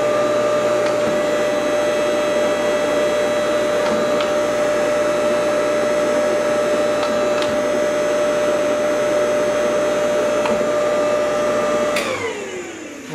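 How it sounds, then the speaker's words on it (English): A punch and die machine running with a loud, steady motor hum and whine that holds evenly, then spins down and fades near the end. "turn the machine back on"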